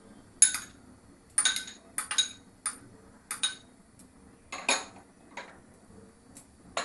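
A large mixing bowl of grated radish salad with coriander being stirred, a spoon clinking against the bowl in about ten short, irregular bursts, close and fairly quiet, with no talking.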